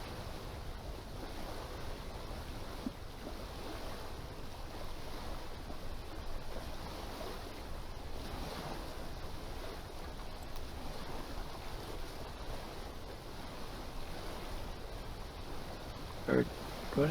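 A sailboat moves over ocean waves in the Sailaway sailing simulator game, with a continuous wash of wind and surf held steady throughout.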